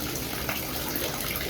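Water draining from a third-floor rooftop tilapia fish pond: a steady, full rush of flowing water, close and unbroken, like a gushing outlet, with no voices over it.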